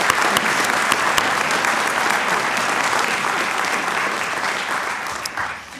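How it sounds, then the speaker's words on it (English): Sustained audience applause at a university law school lecture, a dense wash of clapping hands that holds steady for several seconds before tapering off at the end, with no speech over it. "Now you can applaud."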